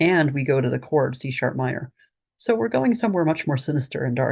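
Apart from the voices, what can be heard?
No everyday noises stand out.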